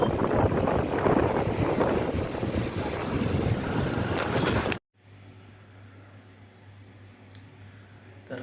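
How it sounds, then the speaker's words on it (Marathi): Heavy rain lashes down with strong wind in a dense, loud roar for about five seconds, then drops abruptly to a quieter background hum. "एकदम थंड थंड झालं आहे खतरनाक पाऊस येतोय"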